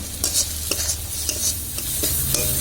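Spices including ginger paste, salt, chilli, turmeric, coriander and cumin powder fry in oil in a pan, a dense close sizzle with repeated scraping stir strokes, loud and continuous, no talk.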